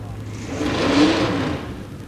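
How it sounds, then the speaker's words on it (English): Drag race car engine at a Texas Motorplex race week revving once, swelling to a peak and easing off over about two seconds, heard at moderate distance under a steady background rumble. "at least it sounds like McGilton's car will actually rev now."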